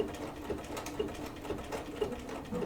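A sewing machine works slowly through appliqué, stitching a quilt in a steady, evenly spaced pulse of needle strokes at close range and low volume.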